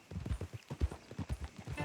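Horses' hooves clip-clop in a steady, close rhythm on a path in Red Dead Redemption 2, with a faint low rumble beneath.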